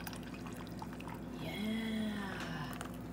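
Cream pours from a small container into coffee, a faint, brief liquid trickle rising and falling for about a second amid quiet room noise, with murmured voices nearby.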